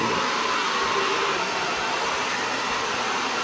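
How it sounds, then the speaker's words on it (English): A hair dryer blows continuously at close range, a loud steady rushing whoosh with no breaks. "I need to use her hair dryer"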